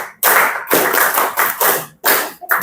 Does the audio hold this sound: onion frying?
no